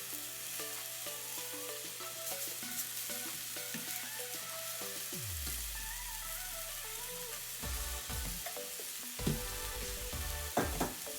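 A venison burger sizzles and fries steadily in a hot pan, with continuous crackling spatter throughout and a few louder pops and scrapes near the end.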